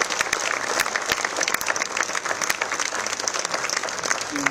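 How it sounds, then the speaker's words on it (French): An audience at the presentation of the Tour Cycliste de Guadeloupe claps enthusiastically, a sustained, fairly close applause with sharp individual claps standing out through the wash. "Je vais vous demander d'applaudir toutes ces personnes"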